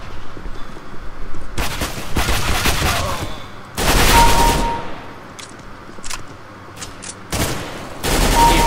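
Rapid automatic gunfire bursts crack and rattle in a CS:GO deathmatch on the Cruise map, several loud volleys of a few seconds each separated by brief pauses, with a player's voice talking between them.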